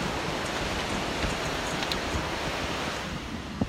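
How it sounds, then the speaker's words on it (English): Stormy ocean surf at St. Andrews beach, a steady, loud roar of breaking waves mixed with gusty wind buffeting the microphone, continuous with no voices. "you guys can see the ocean is super stormy"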